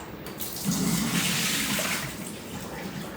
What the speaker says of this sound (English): and pour the hot water out.